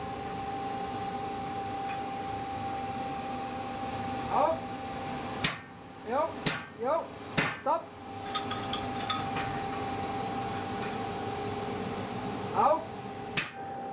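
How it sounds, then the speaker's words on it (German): Blacksmith forging punched holes in hot iron for a gate: a few sharp, ringing hammer strikes, some in quick clusters, over a steady workshop hum, with a voice speaking over it. "Als erstes werden die sogenannten Lochungen geschmiedet."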